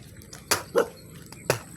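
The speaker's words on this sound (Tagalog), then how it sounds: "lagi lang kami dumadaan dahil tumatahol mga aso" Dogs at a military barracks compound bark in a few sharp, separate bursts, moderately close, over a low background hum.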